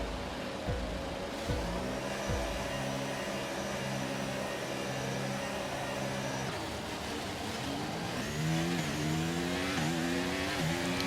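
Several F1 race cars in the F1 23 video game launch off the line at the Miami race, engines howling and revving together in loud, rising and shifting harmonic tones that stay dense throughout.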